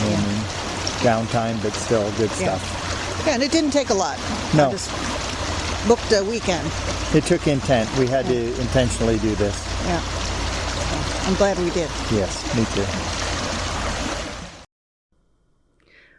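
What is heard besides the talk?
Watauga River flowing water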